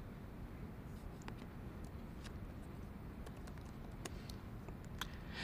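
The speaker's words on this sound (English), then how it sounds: "I'll type in how many siblings I have and my favorite color and dessert in" Faint, irregular keystrokes on a computer keyboard as data is typed into a spreadsheet, scattered light clicks over a soft steady background hiss.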